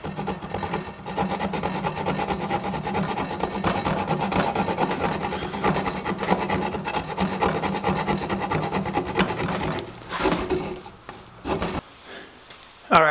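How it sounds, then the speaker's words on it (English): A riffler file with small raised bumps rasps steadily across a carved wooden lamp piece, a continuous scratchy rubbing that runs for about ten seconds before breaking into a few shorter strokes and pauses. "a riffler just is a file of sorts with these little bumps on it."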